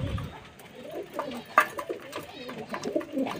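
Pet pigeons cooing softly in a loft, with quiet, rounded coos and a few louder calls, while a person talks faintly nearby.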